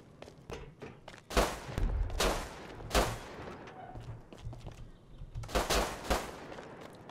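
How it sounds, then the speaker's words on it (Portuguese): Gunfire in the survival game Rust rings out in several sharp, loud bursts separated by quieter stretches of muffled thuds and movement. "Tiros."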